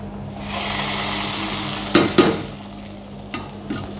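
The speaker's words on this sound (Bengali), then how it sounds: "ফোড়নের পেঁয়াজ এবং মরিচ ডালের মধ্যে দিয়ে দিচ্ছি।" Fried onion and chili tempering is poured into jute-leaf dal, giving a steady sizzling hiss followed by a couple of sharp metallic clanks and softer stirring taps, close and fairly loud.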